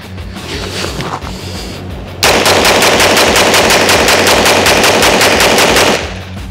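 A UTAS UT9-M Mini gun fires a rapid, evenly spaced burst of shots lasting about four seconds, loud and close, preceded by quieter handling noise and with no talking.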